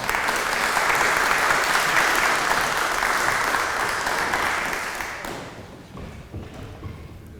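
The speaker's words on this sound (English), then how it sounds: "Can we have a warm round of applause for Brian?" Warm audience applause for a speaker at a lunchtime talk, dense steady clapping that fades out over the final seconds into a quiet room.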